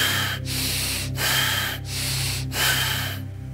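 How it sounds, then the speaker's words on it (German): Deep, fast, rasping breaths follow in a steady rhythm, four loud hoarse cycles close to the ear over a low continuous hum in the background. "Deep and fast, rasping breath, deep and fast."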